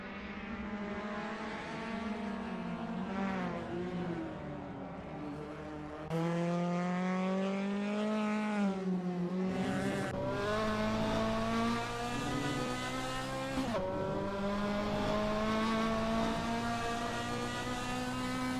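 GT race car engines howl around the Nurburgring in a vintage Assetto Corsa-style racing game, a loud continuous engine note rising and falling through gear changes, with sharp shifts and a second car's tone layered in.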